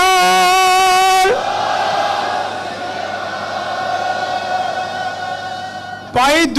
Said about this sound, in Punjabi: ਆਪ ਨੇ ਬੜੇ ਜ਼ੋਰ ਨਾਲ ਜਕਾਰੇ ਦਾ ਜਵਾਬ ਦੇ ਕੇ ਉਹਦੀ ਪ੍ਰਵਾਨਗੀ ਦੇਣੀ ਹੈ